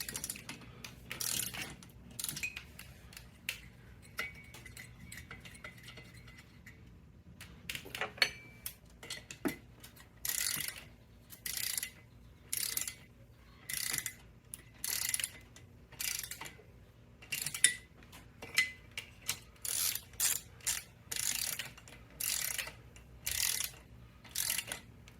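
Bolts being snugged down evenly during a rebuild of a 1997 Vespa P200E scooter, heard as a run of short, regular metallic ratcheting bursts, close up, with a quieter rustling stretch before the rhythm begins.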